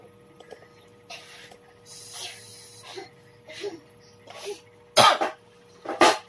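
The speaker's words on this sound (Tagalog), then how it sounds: "Kada video na lang nagkakaubo ako" Several coughs from one person, two loud sharp bursts near the end after softer throaty coughs, close and indoors with faint speech-like sounds between.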